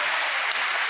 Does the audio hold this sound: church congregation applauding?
yes